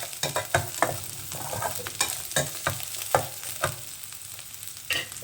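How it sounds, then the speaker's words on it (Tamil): Onions fry on a low flame in a pan, a soft continuous sizzle with frequent scraping and knocking from a spoon stirring them, close by and without talk. "நல்லா பொன்னிறமாக வர அளவுக்கு வறுத்துக்கோங்க அடுப்பை சிம்மில் வச்சு"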